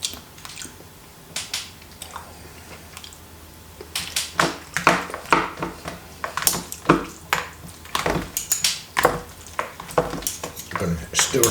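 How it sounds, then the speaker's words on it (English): A utensil stirs a frozen Asian noodle and chicken steam meal in its container, making irregular clicking and scraping clatters that come in quick bursts, sparse at first and busier in the second half, close to the mic. "Gonna stir some more."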